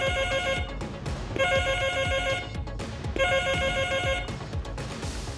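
A telephone rings for an incoming call in loud repeated bursts of bright electronic trilling, separated by short gaps, with no one talking over it.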